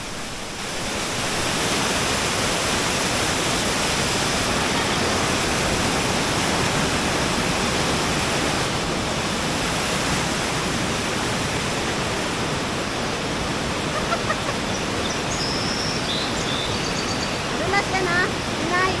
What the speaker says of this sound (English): So much water coming out of the mountain. And it's really,